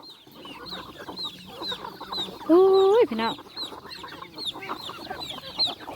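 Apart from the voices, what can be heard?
chickens clucking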